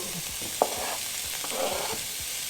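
Chorizo, peppers and onions fry in a very large pan with a continuous sizzling hiss and occasional soft scrapes of stirring, close and fairly loud with no voices.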